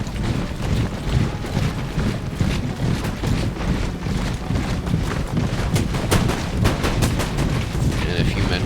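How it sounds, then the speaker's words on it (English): Musket volleys and scattered gunfire from a Napoleon: Total War multiplayer battle, a dense, continuous crackle of shots with sharp cracks standing out toward the end over a steady roar of battlefield noise. "this National Guard's gonna get a volley into them before I think they shoot."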